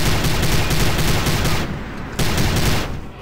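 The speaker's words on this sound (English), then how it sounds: "now I'm gonna shoot you" Rapid automatic gunfire in the video game Prey, loud and continuous bursts with a brief pause partway before firing resumes, dominating the mix.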